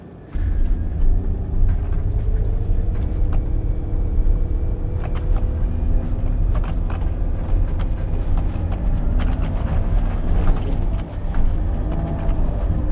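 A Citroen XM 3.0 24V with its engine running drives along, a steady low rumble of motor and road noise rising slightly as it gathers speed, with no talking.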